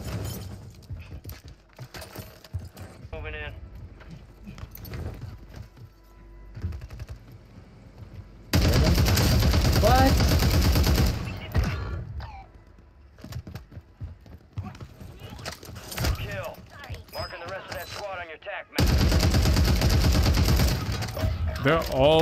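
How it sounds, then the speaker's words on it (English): Video game gunfire in Warzone (Modern Warfare 3), scattered shots from several directions mixed with players talking, punctuated by two long loud bursts of dense firing. "I'm literally getting shot from like so many different spots"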